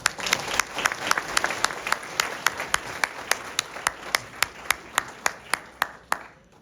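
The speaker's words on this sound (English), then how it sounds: "I want everyone to give a big round of applause to the people that made this joyous event possible." Applause at a wedding reception, with a crowd clapping under a string of sharp, evenly spaced loud claps that keep a steady rhythm until the sound fades out near the end.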